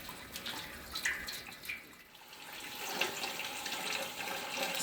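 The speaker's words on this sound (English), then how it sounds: "wort going into the brew kettle through the top valve" Wort pours from a top valve into a brew kettle during sparging for a raspberry kettle sour, a steady trickling, splashing flow of liquid heard close by and rising slightly toward the end.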